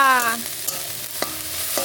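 Dalia khichuri cooking in a pot, a close, loud sizzling bubble with a few sharp pops, and no talking.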